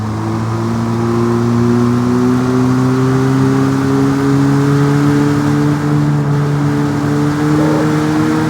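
A car in the Car X Street or Car Parking 2 driving game accelerates gently, its engine tone climbing smoothly and steadily, loud and continuous throughout.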